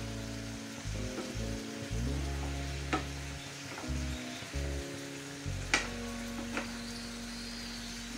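Marinated chicken simmers and sizzles in its own released juices in a pan, a steady frying hiss with occasional stirring scrapes and clinks, close and alone without talk.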